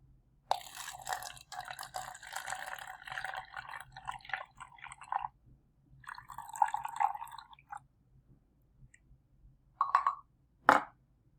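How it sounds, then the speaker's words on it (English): Water pours into a cup in a science experiment, coming as several short bursts of splashing and trickling separated by pauses, quiet and close, with a couple of final drips. "Now the next step is to pour water into 1 cup."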